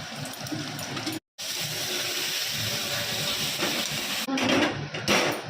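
Jackfruit and potato pieces sizzling and hissing steadily in hot spiced oil in a pan, a close, continuous fry with a brief gap and a few louder spits toward the end.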